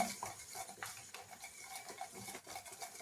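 A spoon stirs a mixture in a pot set over a larger pot of hot water, giving light continuous scraping and clinking against the metal, fairly close and alone without speech.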